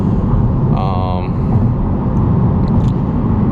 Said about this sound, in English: road noise. You can hear tire noise.